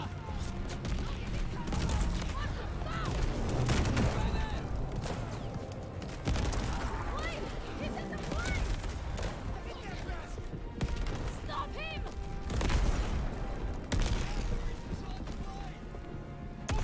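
Gunfire in a Call of Duty Vanguard campaign mission, dense bursts of shots and booms amid engine and action noise, with voices speaking over the din.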